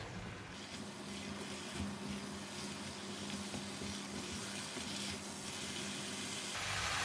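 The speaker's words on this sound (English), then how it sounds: "after I put in the mushroom, and I'm going to increase the temperature and give it a stir" Mushrooms stir-frying in a hot pan after spring onions, giving a steady, continuous sizzle with faint stirring scrapes, fairly close and unbroken, swelling slightly louder toward the end.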